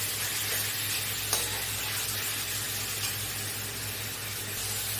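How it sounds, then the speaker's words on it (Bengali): Chicken pieces sizzle and fry in a pan for a chicken burger, with steady crackling and occasional scraping stirs, one sharper clack partway through; no talking. "চিকেনটা দিয়ে ভালো করে এর সাথে মিশিয়ে নেব।"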